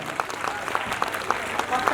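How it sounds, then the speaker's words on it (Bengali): Audience applause after a dance performance at a dance institute event: steady clapping from a crowd throughout, fairly close, with a few sharper claps standing out and some voices mixed in. "জোরে হাততালি একবার।"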